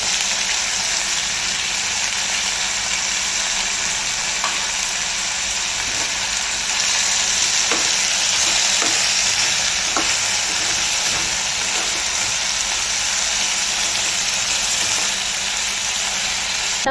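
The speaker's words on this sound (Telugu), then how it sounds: "ఇవి మంచిగా ఫ్రై చేసుకోవాలి. జీలకర్ర వేసుకోవాలి." Cumin seeds frying in a pan give a steady, loud sizzle and crackle throughout, with a few sharp pops and occasional stirring clinks.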